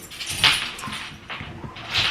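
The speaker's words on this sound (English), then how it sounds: "My dogs are playing" Dogs play and whimper indoors, with whiny yelps and scuffling bursts coming and going close by in a fairly noisy room.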